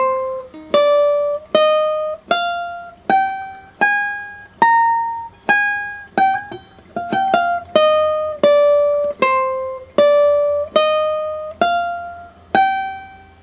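The guitar intro of a song is played slowly, notes ringing out one by one at an even pace, each plucked tone decaying before the next, played alone and clearly.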